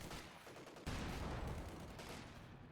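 STG assault rifle fire from a tank turret in the Company of Heroes 2 strategy game, heard as faint, dense bursts of automatic gunfire with a sharper burst near the start.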